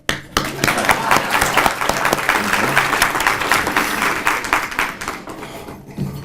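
A crowd at a high school athletic Hall of Fame induction ceremony bursts into applause, loud and close, with sharp claps standing out and some voices mixed in before it thins toward the end.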